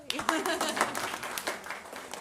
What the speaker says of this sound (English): we can clap for Bill